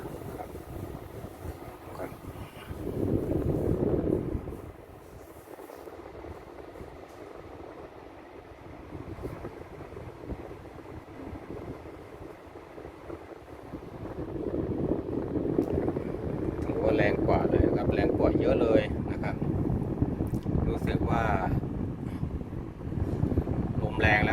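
A cleaned split air conditioner blows a stronger stream of air with a soft, low whoosh. The airflow rises and falls across the clip, and someone speaks over it.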